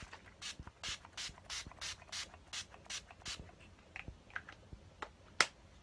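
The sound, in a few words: spraying Urban Decay De-Slick setting spray on face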